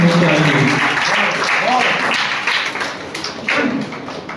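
An audience at an essay-competition prize distribution claps as awards are handed out, the brief, patchy clapping partly overlapped by a nearby speaking voice.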